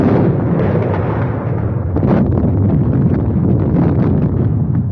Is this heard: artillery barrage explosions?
yes